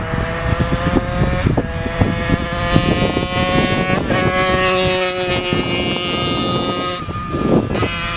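Motorcycle riding past among trees, a steady loud engine drone with harmonic whine, wind buffeting the microphone throughout.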